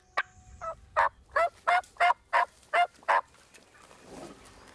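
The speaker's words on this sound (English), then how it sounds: "they gobble, and look out there, and we can see turkeys standing out in the field looking at us" Wild turkeys gobble near an alfalfa field in spring in Missouri, a fast run of about eight loud rattling gobbles in steady rhythm, followed by quiet outdoor ambience.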